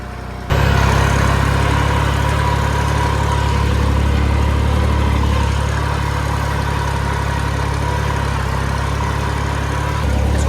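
A tractor engine runs in L4 gear, starting abruptly into a loud, steady low-pitched drone with a continuous hum that holds evenly and dips briefly near the end.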